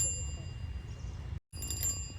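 A bell rings continuously with steady high tones over low rumbling background noise, briefly cutting out near the end before resuming.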